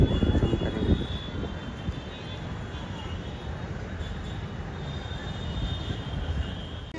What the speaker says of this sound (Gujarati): હવે અહીં એક પ્લેન જાય છે બતાવું છું.